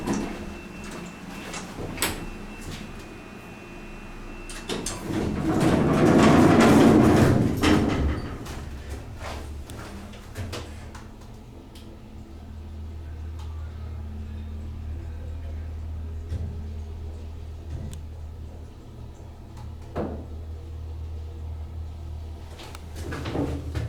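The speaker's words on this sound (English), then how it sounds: "listen to the motor cut off at the top" 1974 Otis traction elevator doors rumble shut, then a steady low traction motor hum drones on, with occasional clicks and clunks of machinery.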